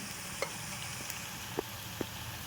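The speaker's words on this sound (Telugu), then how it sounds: "సిమ్లో కొబ్బరి పొడి ఇదంతా వేగాలి ఈ సిమ్లో" Coconut powder and seeds fry gently in oil over a low flame, a faint soft sizzle punctuated by a few light spatula taps and scrapes, quiet and without speech.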